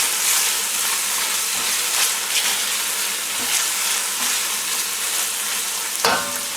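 Pork and chopped ingredients for ma-po tofu are stir-fried in a pan, giving a loud, continuous sizzle with light stirring scrapes throughout and a brief sharper clatter near the end, without talk.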